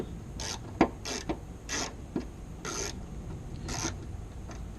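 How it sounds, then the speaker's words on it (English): A small tool cutting and rasping metal inside a broken bolt on a car or bike part, faint intermittent scraping strokes with a few sharp ticks, quiet and close, no talk. "I can use it to kind of cut away some of the metal that's in there so that maybe I can expose some of the threads."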